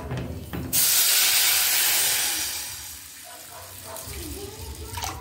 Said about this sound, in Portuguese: Agora eu vou colocar água. Ainda até cobrir o arroz.